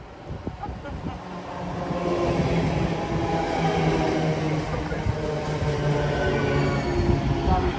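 A train passes slowly through Levenshulme station on the WCML Manchester branch, a steady close rumble and rolling hum that builds and then holds, with people talking over it.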